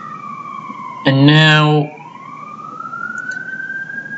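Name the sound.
emergency vehicle siren passing outside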